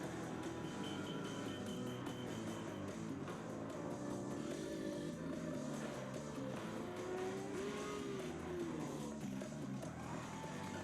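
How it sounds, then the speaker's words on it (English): A small moped engine buzzes and revs steadily in a played game trailer, its pitch rising and falling near the end over a dense, loud mix of other engine and effects noise. "I always wanted a little moped like that."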